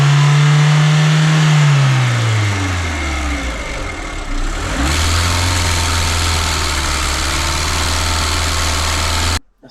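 Car engine running with a persistent abnormal noise, a loud close steady drone that sags and slows as revs fall, then picks back up before cutting off abruptly at the end.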